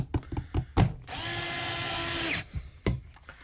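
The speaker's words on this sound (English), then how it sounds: "the only thing left is to put these screws back in" A small power screwdriver drives screws back into a Sega Genesis game cartridge, giving one steady whirring burst of about a second and a half, framed by clicks and handling knocks close by.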